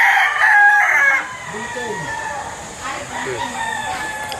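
A rooster crows loudly and close at a poultry market in Lipa, Batangas, followed by clucking chickens and general market bustle, with someone talking.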